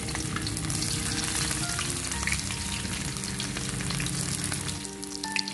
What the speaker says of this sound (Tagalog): Umpisa na natin guys ang pagpiprito ng talakito.